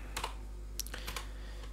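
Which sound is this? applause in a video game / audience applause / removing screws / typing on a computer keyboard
typing on a computer keyboard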